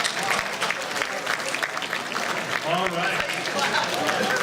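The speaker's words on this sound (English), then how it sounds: "Round of applause for that" Audience at a retro gaming expo collectibles auction in Portland claps steadily for a few seconds, a dense near crowd applause with a voice talking over it.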